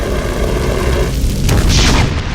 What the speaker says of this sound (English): a huge explosion ripped through the building, bringing down the roof and destroying the walls.